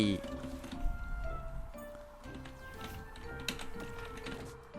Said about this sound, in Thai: ทำไมคีย์บอร์ดกูกดแซดไม่ได้